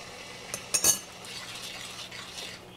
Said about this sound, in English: You're gonna keep stirring because you don't want your sauce to burn at the bottom.